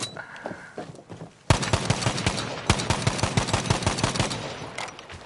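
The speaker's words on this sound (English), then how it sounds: "Strafing while I'm shooting." Rapid automatic rifle fire from a 30-round magazine rattles in Battlefield V, with a brief pause before two long, loud bursts of fast shots, close and with no talking over it.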